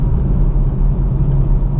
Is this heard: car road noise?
yes